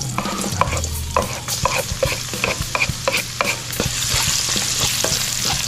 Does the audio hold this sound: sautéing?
yes